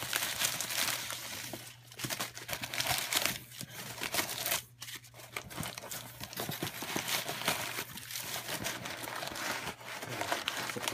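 Packing paper crumpled and rustled continuously at close range while unboxing an older Ertl Case 650H model, with dense crinkling bursts and brief pauses.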